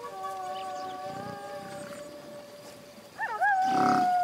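A cartoon mockingbird imitates a wolf howl on the prairie. Several long, sustained howling tones overlap, then a wavering howl rises near the end, moderately loud with no talk.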